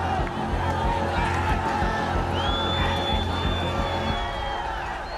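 A large protest crowd storming Nepal's parliament roars and shouts continuously, with scattered whoops and yells rising over a dense, chaotic din.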